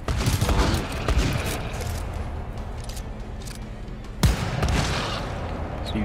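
Gunfire in the video game GTFO comes as rapid, dense bursts of shots, with a sharper sudden blast near the end, loud and close against continuous background noise.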